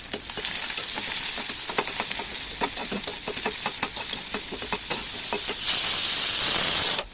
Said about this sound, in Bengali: একটু পরে আমি এটাকে ভেজে নিই